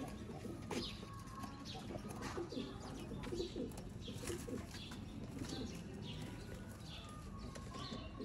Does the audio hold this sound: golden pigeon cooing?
yes